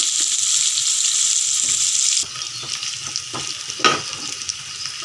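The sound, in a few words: onions, green chillies and curry leaves frying in pan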